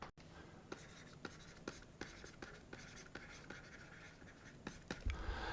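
A pen writes a word on paper during a maths exam walkthrough, producing faint, close scratchy strokes in short bursts with small taps, alone without talk.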